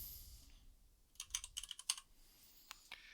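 A seller's name typed on a computer keyboard into a real-estate CRM system: a quick burst of light key clicks, close and fairly soft, followed by a couple of isolated taps.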